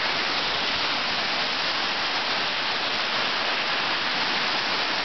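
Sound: waterfall rushing

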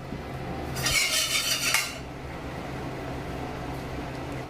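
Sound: cooking oil added to a pan

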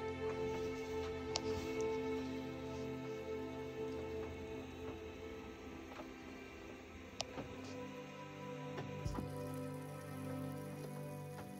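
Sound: rainwater dripping from forest trees onto parked vehicle roof

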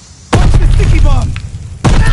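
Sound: sticky bomb explosion in a video game

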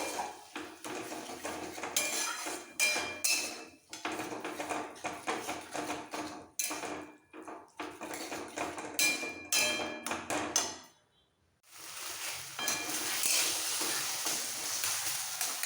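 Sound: mixing mashed bean and potato with a spatula

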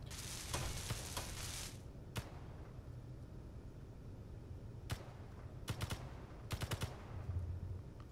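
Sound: gunfire in the video game Space Engineers

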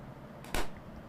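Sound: firecrackers bursting in a video game

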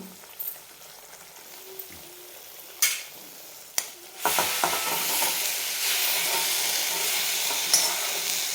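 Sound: fenugreek leaves added and stirred into gravy in a pan

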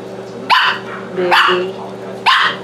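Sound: Chihuahua dog barking

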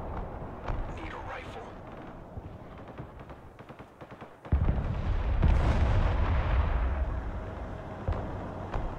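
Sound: artillery fire in Broken Arrow video game

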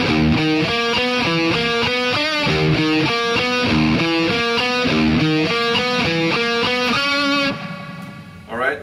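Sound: two distorted guitars playing a figure

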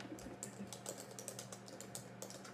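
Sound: typing on a computer keyboard

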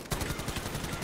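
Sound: light machine gun fire in video game Call of Duty Warzone

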